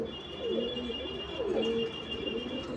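A male Andhra pigeon coos softly in a low, rolling series of calls against a faint background hum.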